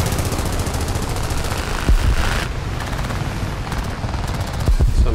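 Continuous rapid machine-gun fire from a He-51 biplane in War Thunder air combat, a dense, loud rattle running throughout over engine drone, with a few heavier thuds mixed in.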